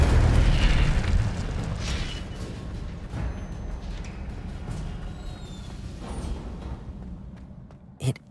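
Incendio and Stupefy spells blast in the video game Hogwarts Legacy, a loud booming roar that fades into a rumbling fiery wash, with one short sharp burst near the end.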